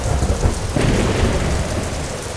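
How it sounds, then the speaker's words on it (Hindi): Cartoon storm with a thunder crack breaking over heavy rain, big drops pouring down in a loud, steady wash that holds throughout after an initial rumbling boom. "अचानक जोर से बिजली कड़कने की आवाज आई और बड़ी बड़ी बारिश की बूंदें आसमान से गिरने लगीं।"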